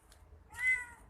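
A cat on an afternoon walk lets out a single short, soft meow at close range against a quiet background.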